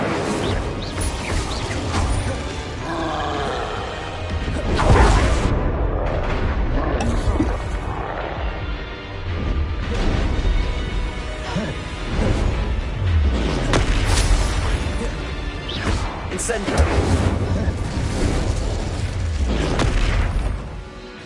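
Incendio fire spell cast in Hogwarts Legacy, a loud burst of booming, crackling magical flame within a dense, continuous wash of game effects and score that swells in several surges.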